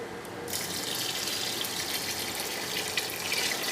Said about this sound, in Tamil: அதுக்கு தேவையான தண்ணியை விடுறேன்.